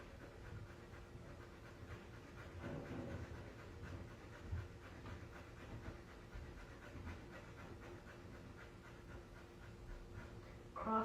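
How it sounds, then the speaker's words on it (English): Rapid, rhythmic nasal breathing during a yoga class, quick faint sniffing puffs like a panting dog that repeat steadily in a quiet room. "Breathe very fast and nose like a sniffing dog."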